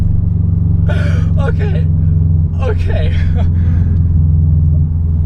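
A tuned Subaru WRX with a full catback exhaust gives a deep, loud, steady engine drone from inside the car, while people exclaim excitedly over it.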